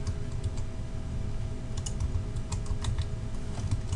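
Typing on a computer keyboard, a steady close patter of key clicks with a few sharper taps, heard alone without talk.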